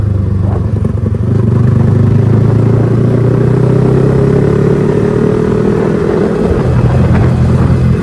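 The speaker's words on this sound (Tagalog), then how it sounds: "Napakaingay ng tambutso dito." A loud motorcycle exhaust drones steadily on a zigzag mountain highway in Bukidnon, its engine note holding close and constant with slight pitch shifts, accompanied by wind and road rumble.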